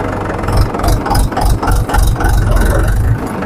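An old blue-bonnet Swaraj 843 XM tractor engine idles loudly and steadily, its diesel chug pulsing in a rough, continuous rhythm close by.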